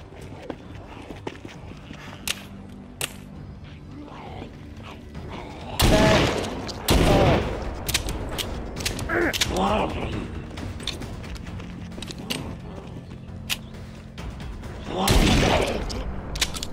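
Double-barrel shotgun blasts in The Walking Dead Saints and Sinners, with several loud, booming shots spread across the clip between footsteps and game noise, and a voice talking at times.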